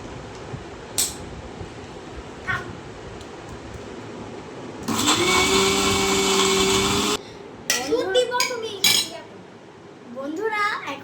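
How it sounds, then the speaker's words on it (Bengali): A blender grinds biscuits into crumbs for a milkshake, a loud steady whirring burst lasting a couple of seconds, bracketed by clinks and faint kitchen clatter. "ব্লেন্ড করে নিন।"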